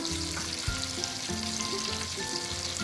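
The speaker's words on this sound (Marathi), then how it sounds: "बटर मध्येच करायचं असतं पण ते बटर जळतं खूप त्याचा धूर धूर होतो म्हणून हे सहा त्याच्यामध्ये त्याच्यामध्ये जिरं घालूया" Cumin seeds sizzling in a pan of hot butter and oil while preparing pav bhaji for a large batch, a steady close frying hiss with faint crackles and no talk.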